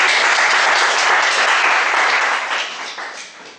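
Audience applause at a speakers forum meeting, a loud, dense crowd clapping that holds steady and then tapers off toward the end.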